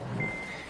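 A car put into reverse sounds its warning beeper, a single thin sustained tone over a low engine idle, fairly quiet and brief.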